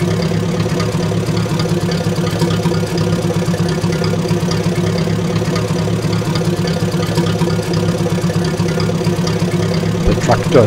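An aircraft tow tractor engine idles steadily in a flight simulator mod, a constant low rumble with a mid-range drone running unchanged throughout.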